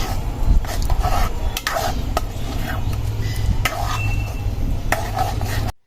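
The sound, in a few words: stirring mango pulp in a pot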